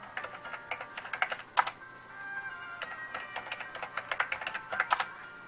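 Quick, close-up clatter of computer keyboard keys as a chat message is typed during an online Okey tile game, coming in uneven bursts with a short pause partway through.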